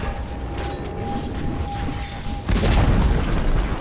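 A tower collapses in Dota 2, a heavy booming crash with a low rumbling tail that swells after a steady background drone, loud and close, with no talking over it.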